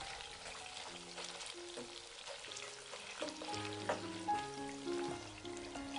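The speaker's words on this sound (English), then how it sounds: "Fry each side of the pork until golden brown." Pork cubes fry in a pan for a Vietnamese braised pork and egg dish, giving a steady, fairly quiet sizzle with small pops and faint stirring sounds and no talk.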